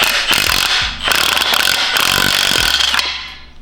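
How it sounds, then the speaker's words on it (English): A Milwaukee half-inch stubby impact wrench with a swivel, extension and 14 mm socket hammers off a torque converter bolt on a Nissan 300ZX Z31 engine, giving loud rattling bursts separated by short pauses at close range. "Now get your 1/2-inch stubby Milwaukee impact with the swivel and extension and 14 millimeter socket, put it on the bolt, and zap it off."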